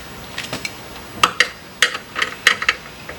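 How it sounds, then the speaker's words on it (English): A 10 newton-meter torque wrench ratchets during a coolant valve repair on a Tesla Model S P85, giving sharp, close clicks in short uneven bursts with brief pauses between them. "this is a 10 Newton meter torque wrench"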